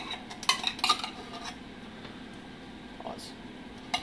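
A spoon clinks and scrapes against a dish while mixing two pounds of hamburger meat, with a cluster of bright metallic taps early on and a few softer knocks later over a quiet room hum.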